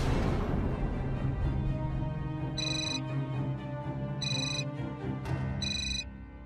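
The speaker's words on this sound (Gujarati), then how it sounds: "કોઈ અનનોન નંબર ઉપરથી ફોન છે." A mobile phone rings with an incoming call from an unknown number. Three short, bright ringtone bursts repeat at steady intervals over a continuous low background bed in a domestic drama scene.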